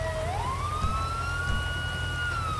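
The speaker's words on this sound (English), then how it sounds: "I'm going to shut my siren off because that can drive you completely bonkers." Police car siren in the FiveM modded version of GTA V, a single steady rising wail that climbs and holds at a high pitch, loud and close over a low engine rumble, with no talking.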